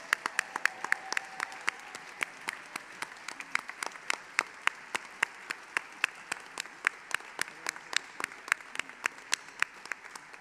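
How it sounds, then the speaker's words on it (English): Sparse applause in an auditorium at a teachers' awards event, a few distinct claps ringing out in a loose, uneven rhythm over a soft, faint background patter. "Let's give them all a round of applause."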